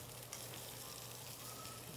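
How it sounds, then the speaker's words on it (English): Shrimp sautéing in a restaurant pan for scampi flambé Trastevere gives a faint, steady sizzle of frying with a low hum underneath and no talk. "And now we lightly sauté the shrimps."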